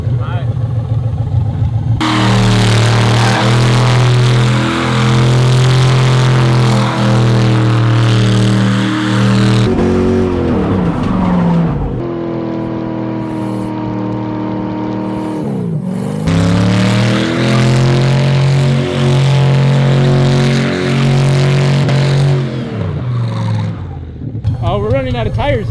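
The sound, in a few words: Datsun car revving and accelerating in second gear, tires spinning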